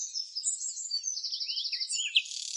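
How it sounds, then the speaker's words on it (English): A blue-cheeked bee-eater in Morocco gives a run of rolling, trilled chirps, clear and fairly close with nothing else around, ending in a sharper burst. "Meet the blue-cheeked bee-eater"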